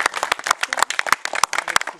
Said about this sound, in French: je pense qu'on peut les applaudir s'il vous plaît